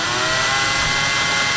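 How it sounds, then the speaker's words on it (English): Power drill bores holes into the deck of a Catalina 30 sailboat docked in Key West, a steady, loud, dense mechanical whir running without pause. "So he's taking a drill, drilling a few holes"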